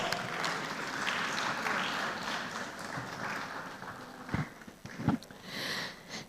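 Applause from a tech conference audience greeting a panel moderator, a steady mid-level patter of many hands with a couple of sharper bursts near the end.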